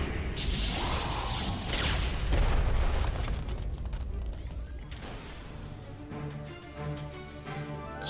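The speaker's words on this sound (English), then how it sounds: "If not, then the missile barrage will." A missile barrage strikes in a Costume Quest battle, with heavy booming explosions and rumbling blasts that build and then fade, mixed with mechanical game effects throughout.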